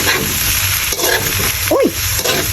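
Tofu and pork frying in a pan while being stirred, a close, constant sizzle with a few scraping strokes and a brief squeak of the utensil.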